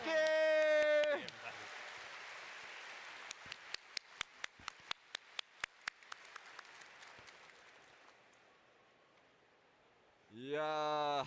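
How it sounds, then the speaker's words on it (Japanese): Audience at the Final Fantasy XIV Fan Festival 2023 keynote breaks into a big round of applause, a dense wash of clapping with sharp individual claps, set between stretches of a presenter's amplified speech. "One more big round of applause, please."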